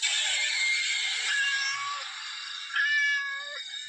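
A cat sound effect in a Hindi spooky audio story: a loud, drawn-out wailing meow, close and clear, that rises, sags, then swells again into a second cry with no talk over it.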